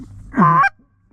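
A single goose honk rings out close by near a duck blind, one short nasal call cut off quickly and followed by quiet.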